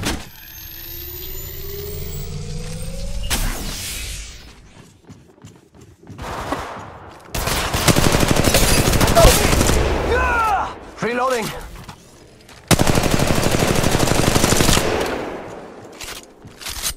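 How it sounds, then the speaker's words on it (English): Gunfire bursts in the mobile shooter Apex Legends fill the sound in loud, dense stretches, broken by quieter gaps and whooshing effects, with a player's voice heard at times. "Shooting!"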